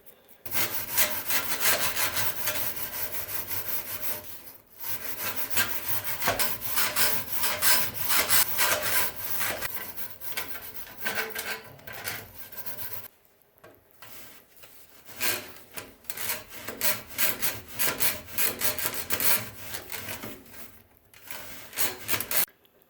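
A brush scrubs soot from the flue passages of a Burnham oil boiler, rasping hard back and forth in long bursts, close and loud, with short breaks between runs.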